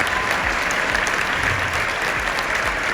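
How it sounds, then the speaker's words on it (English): A large conference audience applauds the event team in a steady, loud roar of dense clapping that fills the whole stretch without a break. "give the team a huge round of applause for everything"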